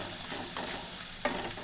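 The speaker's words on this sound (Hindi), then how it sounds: "सबसे पहले हम डालेंगे चॉप चॉप किए हुए अनियन, और इसे शॉटे कर लेंगे" Chopped onion sautés in a pan with a constant close sizzle, broken by a couple of soft scraping stirs, with no voices over it.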